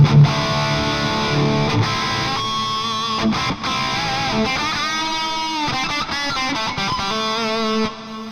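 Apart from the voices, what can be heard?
distorted guitar, Hotone Ampero Mini Plexi preset, Marshall 45, Super Drive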